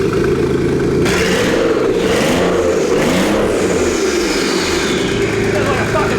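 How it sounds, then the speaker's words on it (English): A loud turbocharged engine with its exhaust pipes removed revs hard and steadily out of gear, a harsh, raw roar with rising and falling surges, close and continuous throughout. "we're going to start it up and blow some dust out of the turbos"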